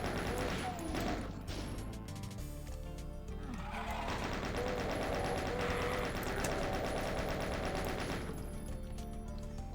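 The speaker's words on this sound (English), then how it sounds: "Sometimes you gotta use the other shotgun." Shotgun blasts from the DOOM game ring out amid dense, chaotic combat noise, with bursts of gunfire and crashing layered over a constant loud backdrop; someone talks intermittently.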